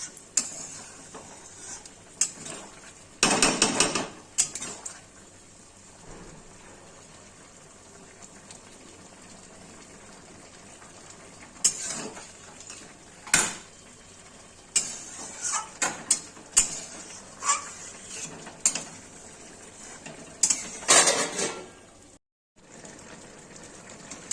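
A spoon stirs potato, eggplant and ripe tomato curry in a pot, making scattered scraping and clinking strokes in short clusters over a quiet background of faint simmering.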